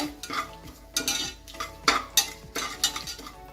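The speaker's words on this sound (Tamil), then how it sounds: "பட்டை லவங்கம் பிரியாணி இலையை ஆட் பண்ணிக்கலாம் வாங்க இந்த மாதிரி சவுண்டு வரணும்" Cinnamon, cloves and bay leaf sizzle in hot oil while a metal spoon stirs and knocks against the pan in a loose rhythm of clinks and scrapes over a soft, low frying hiss.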